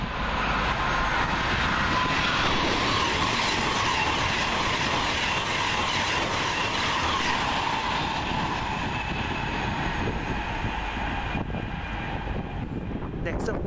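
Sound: train passing through Wolverton station

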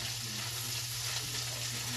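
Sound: bacon frying and being stirred in a pan

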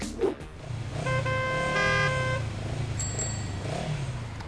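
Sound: city road traffic with car horns honking

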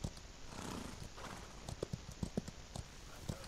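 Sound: donkey hooves and braying in Outlaws of the Old West video game

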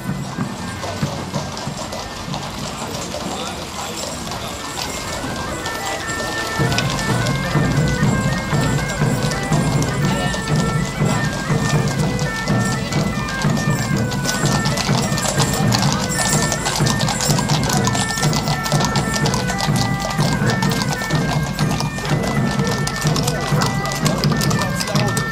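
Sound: horses clip-clopping in historic settlers' procession with covered wagons

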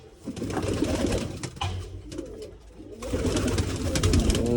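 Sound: pigeons cooing

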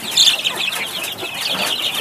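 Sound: Pushkin breed chickens clucking

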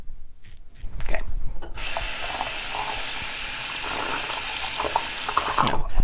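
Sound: rinsing a Gillette Super Speed razor under running tap water

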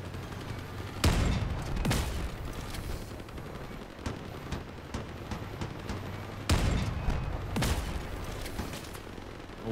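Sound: pulsar weapon firing in the video game Crossout

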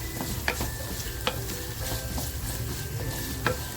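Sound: onion frying and being stirred in a pan

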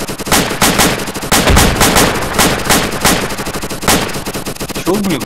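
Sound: gunfire in ArmA 2 video game

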